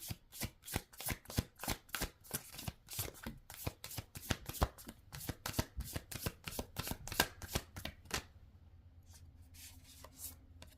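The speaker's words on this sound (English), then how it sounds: "I'm also going to pull a Work Your Light Oracle card for pile number 1." A deck of Work Your Light oracle cards is shuffled close up, with a fast rhythmic run of crisp riffling slaps for about eight seconds before it settles into quiet handling.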